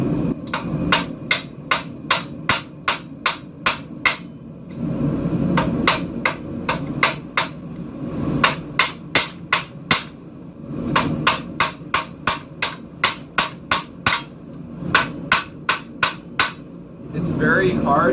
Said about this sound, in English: we'll start forging on it and see what happens